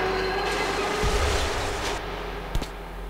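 A passing train in the video game Metro 2033 rumbles steadily with a low drone, rising slightly and then easing, with a sharp metallic clank near the end.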